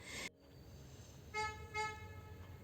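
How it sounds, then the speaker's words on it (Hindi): A vehicle horn toots twice in the background, two short tonal honks about half a second apart, faint over a low rumbling street ambience with no talk. "और ये पीछे से हॉर्न का साउंड आ रहा है।"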